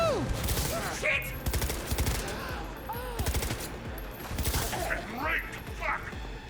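Rapid automatic gunfire from weapons in the video game Cyberpunk 2077, with dense bursts of shots repeating in waves alongside game effects and an excited voice shouting over the action.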